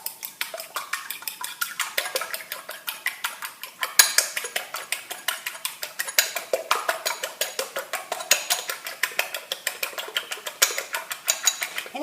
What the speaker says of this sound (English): Beat our egg.